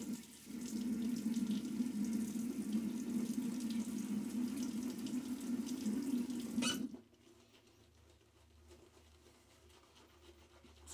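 A tap runs strongly into a sink, wetting a boar-bristle shaving brush, a steady near hiss of flowing water for about seven seconds that cuts off abruptly, leaving faint quiet rubbing afterward.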